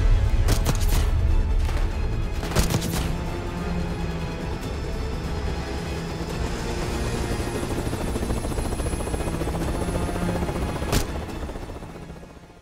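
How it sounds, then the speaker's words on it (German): A helicopter in the Call of Duty Black Ops 6 campaign gives off a loud, steady rotor roar with dense, sustained noise through the whole stretch, fading slightly at the end, with no speech. "Du hast den Helikopter nicht rechtzeitig erreicht."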